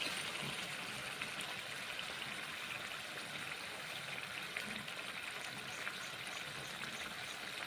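Water poured into a pan of frying pumpkin, a steady low hiss and trickle held at an even, fairly faint level throughout, with no talking.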